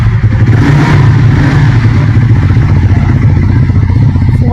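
A Triumph Tracker 400 motorcycle engine runs loud and close, its steady low rumble rising into revs, with no talk over it.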